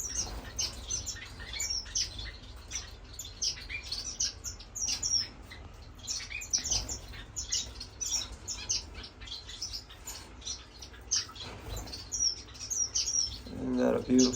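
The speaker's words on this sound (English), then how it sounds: "Isn't that a beautiful bird?" Finches in an indoor bird room chirp and tweet in quick, overlapping bursts, close and busy, with occasional squawks and a brief flutter of wings near the end.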